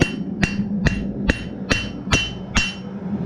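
A blacksmith's hammer strikes hot metal on an anvil to flatten it, seven sharp ringing blows at a steady, slightly uneven rhythm, close and loud with no talk.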